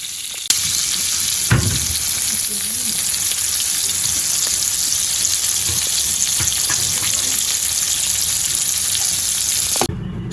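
Mutton chops frying in batches in hot oil, a loud, dense, steady crackling sizzle throughout, broken by a couple of sharp clatters near the start and a sudden cutoff at the end.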